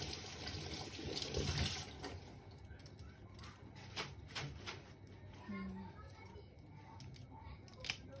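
Tap water runs steadily while fruit is rinsed under the faucet for a fruit salad, a constant low splashing with voices faintly in the background.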